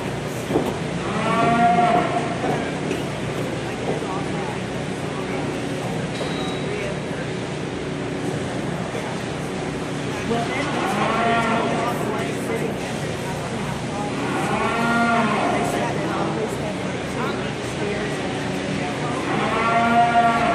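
Cattle at a livestock show with classes for American breeds moo several times at intervals, loud and moderately close, over a constant crowded background murmur with voices.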